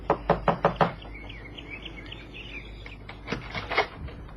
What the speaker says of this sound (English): Knock, Johnny.